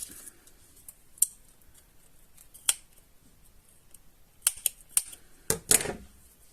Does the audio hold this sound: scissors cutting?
yes